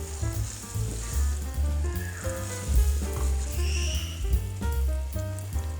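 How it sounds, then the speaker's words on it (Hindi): Minced beef seasoned with cumin powder fries in a pan, giving a steady close sizzle throughout, with background music playing over it. "इसके साथ शामिल करेंगे जीरा पाउडर 1½ टीस्पून। अब हम इसको अच्छी तरह से भूनेंगे।"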